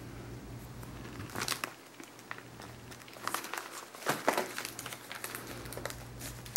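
A star-shaped paper punch cuts through paper coated with tinsel embossing powder, giving scattered crinkly crunches and clicks close by over a steady low hum, with short bursts of handling between cuts.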